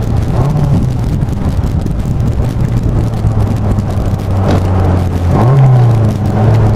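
Lotus Elan Sprint on a road test, engine note dropping and rising as the car slows hard and pulls away again, with heavy wind rush over the microphone throughout and no talking.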